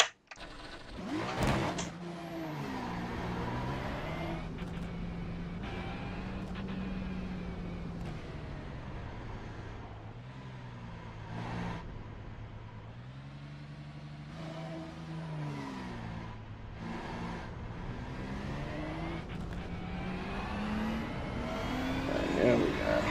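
GT3 race car engine in a racing video game at Watkins Glen drones steadily, rising and falling in pitch through gear changes, while a person talks over it throughout.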